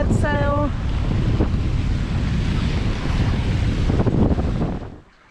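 Strong wind buffets the microphone over rushing waves aboard a sailboat under reefed mainsail and full headsail in about 11 knots of breeze, a loud, constant roar that fades out abruptly at the end.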